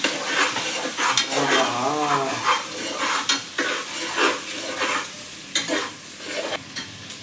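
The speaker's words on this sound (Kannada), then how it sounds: "ಕ್ಲೀನಾಗಿ ಮಿಕ್ಸಪ್ ಮಾಡ್ಕೋಬೇಕು" Ingredients for chicken biryani being mixed in a pot, with a steady scraping stir and soft sizzling, in irregular strokes close by, with no talking.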